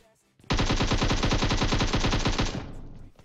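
GROZA assault rifle firing in PUBG Mobile, a single sustained burst of rapid automatic shots at an even rhythm, loud and close, stopping abruptly after about two seconds.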